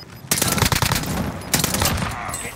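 Rapid automatic gunfire in a battle royale shooter, two loud close bursts of rattling shots separated by a short pause, with a faint voice in the background.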